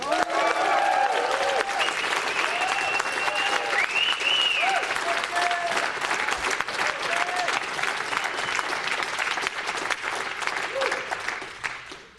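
Sustained audience applause and cheering at a BBC Scotland music event welcoming a band's frontman, dense clapping with whoops, loud and steady for about twelve seconds before tailing off.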